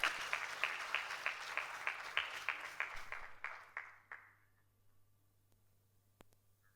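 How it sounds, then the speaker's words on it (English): An audience at a conference keynote address applauds with steady, rhythmic clapping, fairly faint in a large room, then tapers off into near silence. "Please, a round of applause for him."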